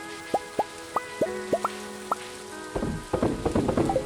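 Rain falling in Stardew Valley, a handful of separate bright plinking drops in an irregular rhythm followed by a denser patter of splashes, close and clear with no voices.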